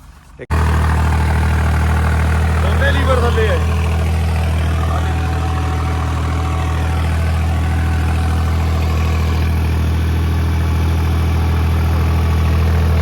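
A tractor engine runs steadily for a rotavator setup, a 2007 model held around 1450 to 1500 rpm, producing a constant low, close drone that holds unchanged throughout.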